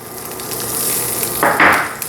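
A spoonful of lard hits a hot pan and starts to sizzle, a steady frying hiss that swells near the end with a couple of louder bursts, close and alone.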